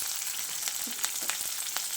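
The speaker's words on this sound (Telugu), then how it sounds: "ఆలుగడ్డ కూర ఆలుగడ్డలు వేసేస్తున్నాను." Potatoes for a masala dosa filling fry in a pan with a soft, steady sizzle, close by and quiet, with a few faint clinks and stirring scrapes and no talking.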